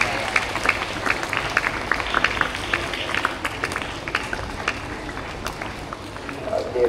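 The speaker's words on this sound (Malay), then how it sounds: "Tepuk tangan." A crowd claps together in a lively burst of applause, sharp hand claps spread across the room, fairly close and continuous for several seconds.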